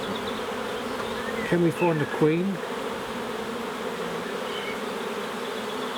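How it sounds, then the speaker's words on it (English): A crowd of honey bees in an open beehive from a swarm hive, humming steadily close by, with a person talking briefly over the buzz. "there's too many bees in here after 6 weeks"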